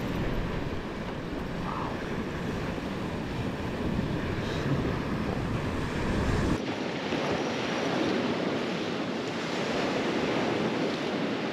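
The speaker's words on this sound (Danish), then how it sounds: "men det er så de bølger her, vi har at gøre med lige nu" Sea waves break steadily on the shore of Samsø island in Denmark, with whitecaps offshore; a loud, continuous wash of surf and wind rumble, shifting slightly in tone partway through.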